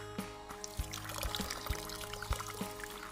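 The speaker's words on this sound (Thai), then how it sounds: "แรงแรงนี้มันยิ่งน้ำไหลดีครับ" A small 12V solar water pump pushes water through a hose, splashing and pouring in a quiet, continuous stream with a few soft thumps.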